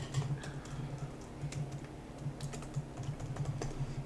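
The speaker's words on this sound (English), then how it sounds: "let me type in our names" Steady typing on a computer keyboard as names are entered, a continuous run of moderately loud keystrokes close by with no talking.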